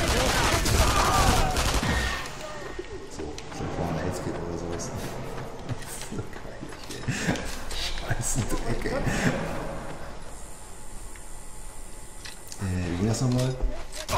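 Gunfire crackles through a World War II sniper shooter game, Sniper Elite 3, with loud shots and bursts over a busy game soundscape while a player talks over the action.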